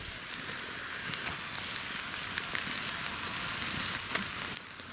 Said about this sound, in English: Oh, the fire's raging like it's hot.